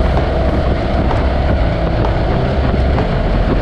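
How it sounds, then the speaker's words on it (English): Strong, steady wind in the rain roaring and buffeting across the microphone on a moving Harley-Davidson Pan America motorcycle with knobby tires, loud and continuous, with a low rumble underneath. "It's just so windy."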